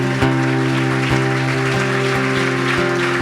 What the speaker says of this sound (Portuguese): Agora use essas mãos para dar um aplauso ao Senhor.